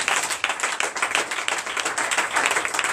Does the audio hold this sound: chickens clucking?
no